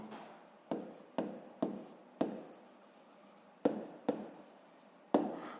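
Pen strokes on paper while someone writes out a fifth-grade maths answer about strawberries in baskets: seven quick, distinct scratching bursts, each fading after a sharp onset, close and clear with no talking.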